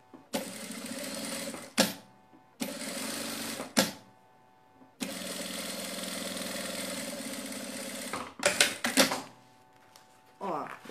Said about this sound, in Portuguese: E passar uma costurinha nessa parte aqui.